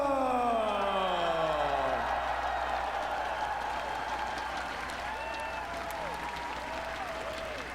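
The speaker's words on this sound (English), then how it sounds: "One more round of applause, y'all." A large crowd at the EVO 2017 Super Smash Bros. Wii U Top 8 applauds steadily, a dense wash of clapping and cheering that carries on throughout, with a bright synth sweep fading at the start.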